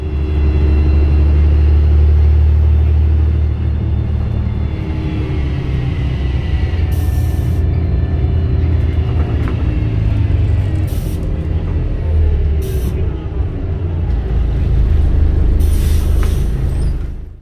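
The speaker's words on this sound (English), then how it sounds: "I did quite enjoy my brief trip on board this very unique bus" Riding inside an Interline Volvo B7RLE route bus with Alan B Denning bodywork: a loud, steady low engine drone and road rumble fill the cabin, with brief rattles and hisses rising over the constant hum.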